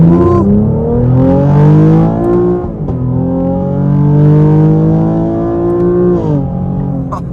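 A 2024 Chevy Camaro 1LT engine revs hard in first gear and climbs in pitch, briefly drops, then surges again in a loud, strained, continuous roar close by.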